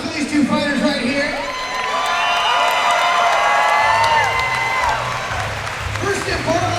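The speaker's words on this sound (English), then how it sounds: "Ladies and gentlemen, give a round of applause for these two fighters right here." A fight-night crowd at AFC 16 claps and cheers for two fighters, a sustained roar of applause with whoops and shouts over it, loud and continuous.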